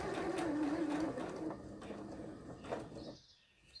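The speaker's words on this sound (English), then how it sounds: "you can do it manually just by turning the balance wheel" A sewing machine stitches a bound buttonhole while its balance wheel is turned by hand, giving a steady, close mechanical whir with a faint wavering whine that fades to near quiet at the end.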